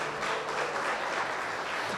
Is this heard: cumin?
no